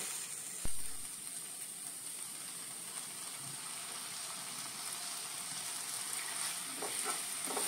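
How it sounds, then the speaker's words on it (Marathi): Green masala fries in a pan with onion and tomato for a Konkani squid sukke, giving a steady soft sizzle and hiss at low level, with a single sharp knock near the start. "आता तितून आम्ही ग्रीन मसाला घालून भाजून घेया"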